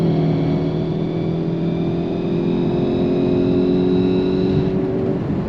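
Volkswagen GTI Performance accelerating hard on a test run, its engine holding a steady loud drone with a rising tone for about five seconds, close and continuous with no talk.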